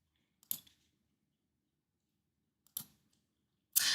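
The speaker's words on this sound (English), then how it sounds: "Do I hear cards?" Playing cards are handled in a quiet room: three brief, separate crisp riffles or snaps, the last one louder and longer, with near silence between them.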